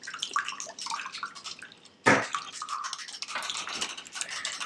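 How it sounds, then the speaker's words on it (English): Two eggs whisked quickly in a bowl for king cake, a fast, steady clatter of light scraping and tapping strokes, close and fairly loud, with a sharper knock midway. "we're going to take 2 eggs and just quickly whisk those"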